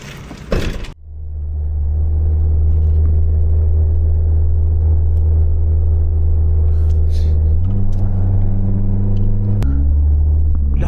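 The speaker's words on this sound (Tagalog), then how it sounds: "Jeep." A jeep engine idles steadily and loudly with deep low rumble throughout, shifting pitch slightly twice as it revs, after a brief clatter at the start, at a campsite.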